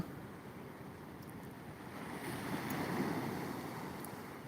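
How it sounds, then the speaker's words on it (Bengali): Sea waves roll and break on a windy shore, a steady broad wash of surf that swells louder midway and stays close and continuous, with wind buffeting the microphone and no voices. "মারাত্মক মারাত্মক লেভেলের সব ঢেউ উঠছে"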